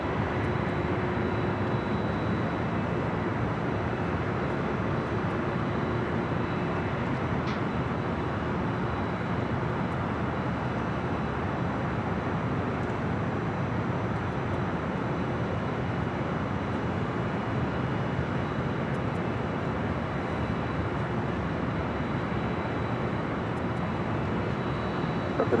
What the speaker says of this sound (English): this 767 heading to Salt Lake's finally making its way to 24 left